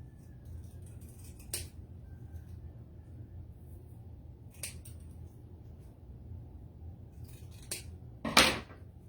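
Scissors snip paper to cut out a boo decoration, a few sharp, isolated cuts close by in a quiet room, the last one louder and longer.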